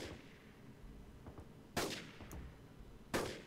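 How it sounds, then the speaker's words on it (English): An unsilenced gun fired in Arma 3, with two loud, sharp reports spaced over a second apart against a quiet background, each followed by a short decaying echo. "That gun sounds awesome when it's unsilenced"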